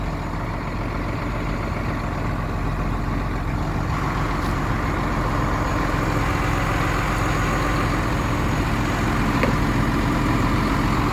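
Hino crane mechanics service lube truck idling while it warms up, a steady, continuous diesel rumble that holds the same level throughout, close by and without talk.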